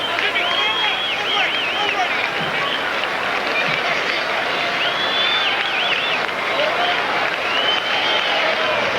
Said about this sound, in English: The crowd hoping for another punch out from Pedro